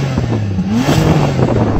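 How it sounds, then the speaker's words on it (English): A Bentley GT Speed W12 in sports mode revs up against a 3,000 RPM soft limiter, its deep engine note swelling and dipping loudly and up close, with no talking. "So I'm going to rev up this Bentley. I've got it in sports mode, and I've given it some revs."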